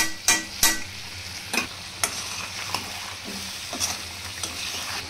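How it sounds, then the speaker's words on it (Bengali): Panch phoron spice being stirred into frying chicken for pickle-style achari chicken, with soft sizzling under a string of sharp spoon scrapes against the pan, alone and close. "আমরা এই 5 ফোড়ন গুঁড়িটা দেওয়ার পরে এখন আমরা এটা ভালোভাবে মিক্সড করে নিব"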